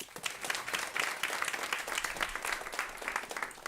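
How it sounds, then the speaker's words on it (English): An audience claps for a journalist and author taking the stage at a conversation event, a steady, fairly full round of applause with dense overlapping claps throughout. "Please give him a round of applause."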